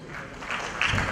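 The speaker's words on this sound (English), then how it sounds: "Please give a big round of applause." Audience applause at a corporate CSR leadership talk in India, a short burst of many hands clapping that grows slightly louder toward the end.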